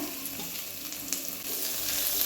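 Chopped rice-flour vegetable mix drops into a pan of hot oil with fried chili and reddened garlic and sizzles loudly and steadily, the frying hiss swelling slightly toward the end.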